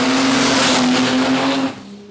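A nitro drag racing car on the start line at Palmyra Dragway building boost, a loud, steady, droning engine roar up close that drops away sharply near the end.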